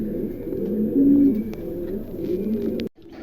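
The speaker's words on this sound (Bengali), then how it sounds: "আজকে প্যাকেজ হিসাবে 4 জোড়া কবুতর একসঙ্গে দেওয়া হবে" King pigeons coo in soft, throaty rolling phrases close by, a steady murmur of several birds before a sudden cut near the end.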